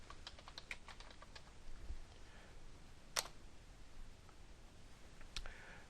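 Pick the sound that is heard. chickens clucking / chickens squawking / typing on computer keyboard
typing on computer keyboard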